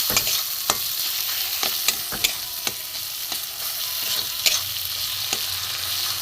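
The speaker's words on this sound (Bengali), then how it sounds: "দিয়ে আমি ভালো করে একটু কষিয়ে নেবো" Cumin, coriander and garam masala fry with tomatoes in a pan, making a loud, steady sizzle close by, broken by regular sharp scrapes and taps of a stirring spoon.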